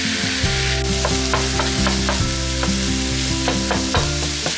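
Half a pound of lean ground turkey with minced garlic sizzles loudly in a pan, punctuated by regular scraping and tapping strokes of a spatula stirring the meat, with a low steady hum underneath.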